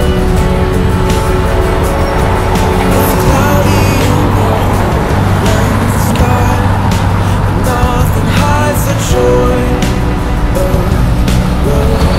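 A Dodge Dart drives through Toronto streets, filling the scene with steady, loud road and engine noise that stays constant throughout, with tonal sounds layered over it.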